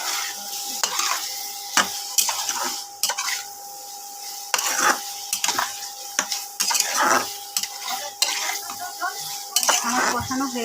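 A Bengali omelette curry (dimer dalna) is sautéed and stirred in a pan, with repeated scraping and clinking spoon strokes over a steady, soft sizzle of oil.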